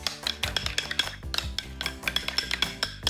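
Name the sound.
mixing seasoned yogurt with salt and cumin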